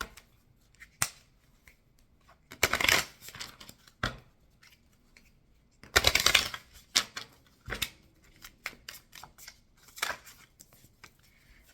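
Advice cards shuffled and drawn in two louder riffling bursts among scattered soft snaps and slides of card on card, close and quiet, no talking.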